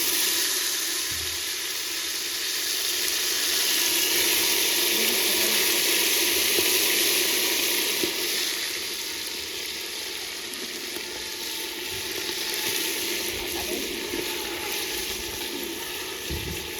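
Meat goes into a clay pot with garam masala for a home-cooked curry, setting off a strong, continuous sizzle that swells and eases over several seconds, steady and close with no talk.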